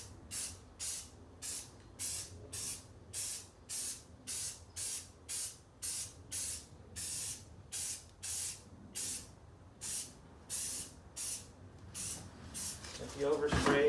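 Spray paint can hissing onto a car panel in a long run of regular short bursts, close and loud, with a louder rush at the end.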